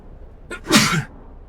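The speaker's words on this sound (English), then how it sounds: "Sneeze." A single sharp sneeze, close and loud, with a short in-breath followed by the burst, set against near silence.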